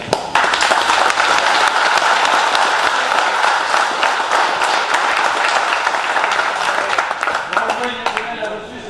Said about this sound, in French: Alors recommencez à applaudir, mais faites-le pour vous et entre vous, s'il vous plaît.